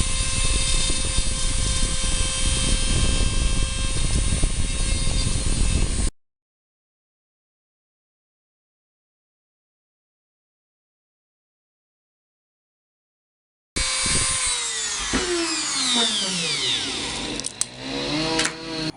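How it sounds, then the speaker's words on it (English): A Dremel rotary tool fitted with a carbide bit grinds metal on a Jeep headlight switch, a high whining buzz in close bursts, cut by a long silent gap, with pitch dipping as the bit loads up. "what I'm using is a Dremel with just I think that's a carbide bit or something, but I'm just gonna grind off these two areas"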